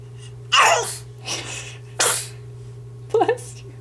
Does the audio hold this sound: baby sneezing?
yes